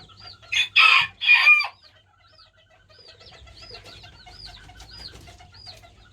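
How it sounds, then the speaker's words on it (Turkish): Chinese painted quail chicks in white, blue and forest colours. A few loud, close calls come first, then many thin, high chirps repeat rapidly over a low background hum. "Hızlı bir şekilde civcivlerimizi bekletmeden görüntülerini vereceğim."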